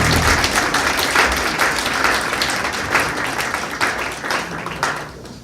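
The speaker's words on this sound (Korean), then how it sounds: "우선 먼 길 오신 세 분의 후보 환영의 박수를 좀" A room full of people applauds to welcome three candidates at a social workers' association election forum in Jeju, a loud, dense burst of clapping that thins toward the end.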